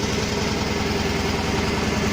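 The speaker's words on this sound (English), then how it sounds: "Here we go, just giving you a sense of the sound of the engine." Restored AMX13 light tank's twin-turbo engine running on fresh fuel and batteries, a steady, loud, rhythmic low throb with an even idle and no talk over it.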